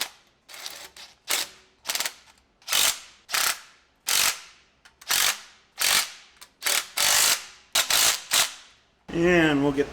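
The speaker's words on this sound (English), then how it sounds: "And we'll get the torque wrench out" A torque wrench ratchets in a dozen short, loud bursts of clicking while tightening the bolts around an engine shield on a 134ci Willys Jeep Hurricane engine, ending in a brief mechanical whir.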